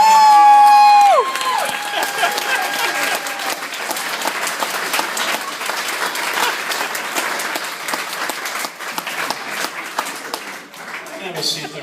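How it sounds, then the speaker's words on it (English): An audience at a stage hypnosis show breaks into a dense round of applause with some cheering and whoops, loud and sustained after a brief tone at the start, tapering slightly toward the end. "This round of applause is all for you."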